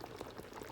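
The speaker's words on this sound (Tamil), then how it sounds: "இப்போ பாருங்கள், நமக்கு வந்து கிரேவி நல்லா கொதிச்சிட்ருக்கு." Vegetable kurma gravy with coconut simmering in a pot, a soft, steady bubbling with faint pops throughout, close and quiet with no voices.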